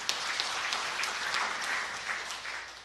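Church congregation clapping during a sermon by Pastor Lukas Kusuma, a fairly quiet, steady patter of many hands that fades slightly toward the end.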